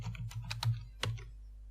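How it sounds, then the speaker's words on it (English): Computer keyboard typing while entering letters into a search box, a quick run of several soft key taps followed by a single firmer press, close up and quiet, with no voices. "now I can type in letters into the box"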